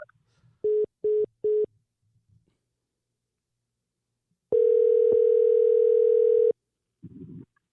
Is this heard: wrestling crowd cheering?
no